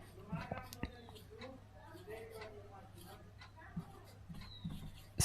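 A teacher writes on a board during a biology lesson, producing faint scratching strokes beneath quiet spoken explanation.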